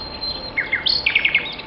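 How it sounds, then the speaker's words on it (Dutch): A nightingale singing: a short run of bright, high chirps and whistled notes, fairly close and clear, with no other sound. "Het gezang van de nachtegaal doet ons denken aan vroeger, toen we kind waren."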